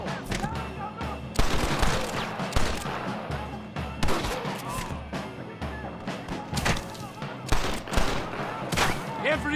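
Gunfire in the Western video game Red Dead Redemption: dense, rapid bursts of shots crackle nearly nonstop, loud and close, with heavier booms mixed in and voices shouting beneath the barrage.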